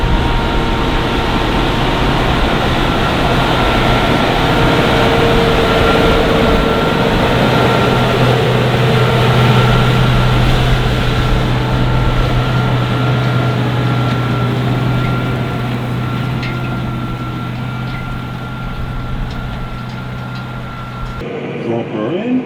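A Massey Ferguson 5S 145 tractor engine drones loud and steady at high revs under load, with a sustained low hum and faint whine running continuously before easing slightly near the end.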